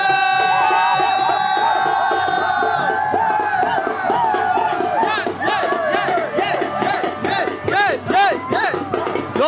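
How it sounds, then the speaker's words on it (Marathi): A dense crowd at a village fair (yatra) game shouts and whoops continuously, loud and close, with overlapping voices rising in bursts throughout. "भरपूर अशी लोकांची गर्दी तुम्ही बघताय"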